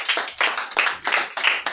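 A church congregation claps for the preacher during a worship service, with sharp, fairly quick claps in uneven bursts from a small crowd nearby.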